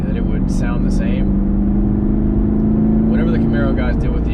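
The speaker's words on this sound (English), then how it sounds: "Whatever the Camaro guys did with the exhaust, this is way better." A 2019 Chevrolet Camaro 1LE running, its engine and exhaust giving a steady low rumble with a held drone, while someone talks over it near the start and end.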